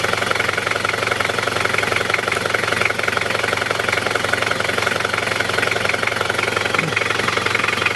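A Daihatsu Rocky's engine idles through a 2.5-inch exhaust with a new flex pipe, a loud, close, steady low rumble with a fast rhythmic chugging pulse that stays even throughout.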